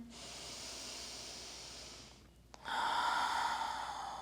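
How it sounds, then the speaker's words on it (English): Deep, steady breaths drawn in and let out through the nose during breathwork meditation, a hissing airflow that fades briefly with a small click before a louder, fuller breath, close and alone without talk. "So we'll go ahead and take 3 just normal deep rounds of breath."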